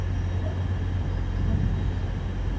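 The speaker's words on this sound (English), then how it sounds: "Great Northern service from Cambridge using the Thameslink 700s, being led by 700" Thameslink Class 700 electric multiple unit arriving on a terminating Great Northern service from Cambridge at a London terminus, a steady low rumble and hum of the train filling the station, constant and fairly close.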